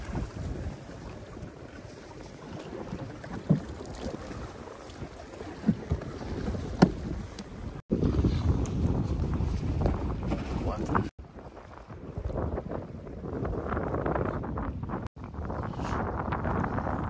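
Wind and choppy waves around a small fishing boat at sea off Papua in rain, a rushing, buffeting wash with microphone wind noise and occasional splashes, fairly faint and uneven throughout.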